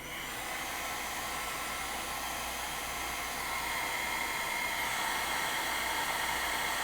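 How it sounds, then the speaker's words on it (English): A hair dryer blows steadily, a loud constant whooshing roar that holds for several seconds with no talking. "let me hit these with a blow dryer quick"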